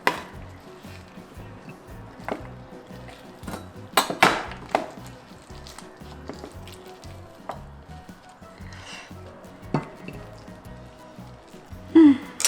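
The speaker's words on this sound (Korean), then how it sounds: "자, 먹기 좋은 크기로 이렇게 썰어주시면 돼요." A knife cuts braised pigs' feet (jokbal) into bite-sized pieces on a board in a home kitchen, giving sparse irregular knocks and taps with a few louder chops over a quiet background.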